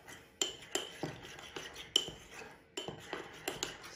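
A spoon stirs honey, mustard and garlic together in a small bowl, giving a quick, fairly faint series of clinks and taps, roughly two or three per second, with soft scraping between them and no talk.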